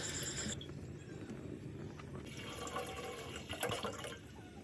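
Water pours into a cooking pot to be heated for noodle soup, a quiet close splashing trickle with a few louder gurgles near the end.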